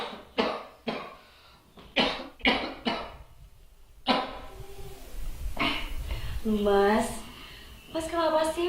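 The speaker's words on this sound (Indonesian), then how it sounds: "Udah dari 3 bulan kemarin loh Mas batuk-batuk terus, nggak sembuh-sembuh." A man coughs repeatedly in a short drama, several sharp hacking bursts in a row, then a pause and more rough coughing with throat clearing, close and fairly loud.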